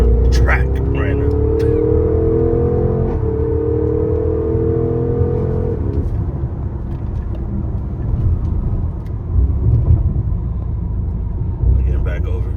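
Porsche car driving on a race track: steady engine rumble with rising and falling tonal engine whine, loud and continuous throughout, with people talking over it.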